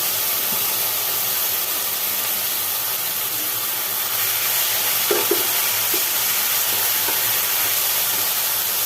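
Cut okra pieces sizzle in hot oil over a spice tempering: a steady, loud frying hiss with a few soft clinks and scrapes from stirring partway through.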